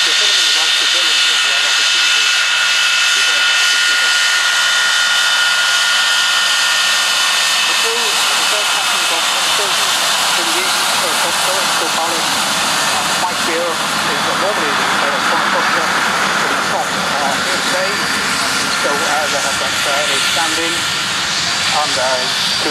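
Loud, continuous roar and whine of Handley Page Victor jet engines running at a Cold War jets open day, a steady close-up blast that fills the whole stretch.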